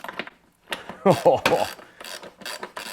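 A ratchet with a 5/16 socket works loose a large nut on the spray jet of a Toro Super Recycler aluminum mower deck, giving short bursts of close clicking with a brief exclamation from a man.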